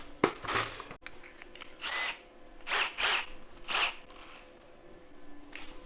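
Several bursts of power drilling, short and uneven, starting and stopping with brief pauses between runs, close to the microphone, while fitting rivet nuts on a powder coating oven build.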